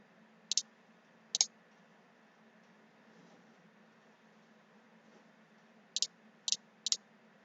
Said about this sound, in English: click on create new project